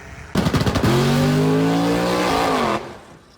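A race car engine runs loud and close, a burst of revs settling into a steady, slightly rising drone for a couple of seconds before it cuts off abruptly.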